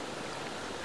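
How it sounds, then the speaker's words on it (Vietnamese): Rainwater runs in a stream after heavy rain, a brief, even rushing hiss of flowing water with no voices. "đến cái mùa này thì cái mạch nước này lại chảy rồi cô bác này"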